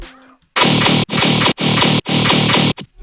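Four long, loud, gritty tearout bass blasts with a buzzing, distorted low-end body, separated by brief gaps, each held at a steady heavy level.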